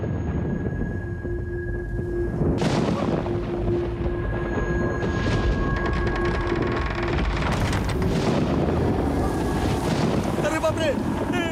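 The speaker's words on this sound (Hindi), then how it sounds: "ये तेज हवा कैसी है?" A strong, gusting wind roars loudly through a dramatic scene in a Hindi-dubbed South Indian film, rising and swirling with rattling debris while voices speak beneath it.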